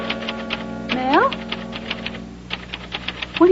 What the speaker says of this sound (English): Typing a letter.